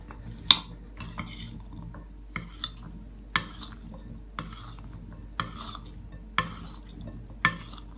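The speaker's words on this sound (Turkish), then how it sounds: "patatesimizin her yerine bulaşması için patatesimizi karıştıralım." A spoon stirs and scrapes through salted potatoes in a bowl, with sharp clinks against the side every second or so, close and fairly quiet.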